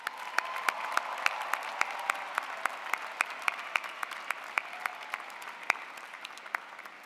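An audience applauds graduates at a university business school spring commencement, steady clapping that rings through a large hall with sharp individual claps standing out, then slowly thinning.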